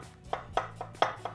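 A knife chops onion on a board, five crisp, evenly spaced cuts in quick succession, close and clear with no talking.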